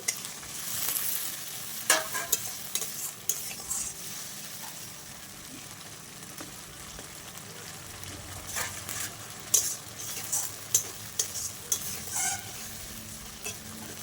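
Spice paste loosened with a little water sizzles and is stirred in a pan while fish curry with potato and green banana is cooked, giving a steady low frying hiss with scattered sharp scraping stirs, no talking.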